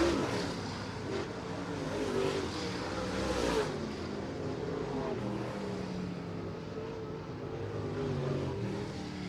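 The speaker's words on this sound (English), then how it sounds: "White flag out one more time around for the number 69 of Brandon Thurlby." Late model race cars circling Merritt Speedway during a heat race, a loud continuous engine roar that swells and fades as cars pass, steady throughout with crowd-level ambience and no clear speech.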